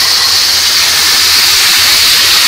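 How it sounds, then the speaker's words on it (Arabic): Diced tomatoes hit a hot pot and sizzle, a loud steady broadband hiss throughout the short stretch with no break. "هنزل بالطماطم المتقطعة مكعبات"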